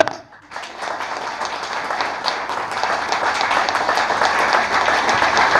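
Audience at a Hindu satsang clapping loudly and steadily, a dense continuous wash of hands that swells after a brief quiet start and holds strong to the end.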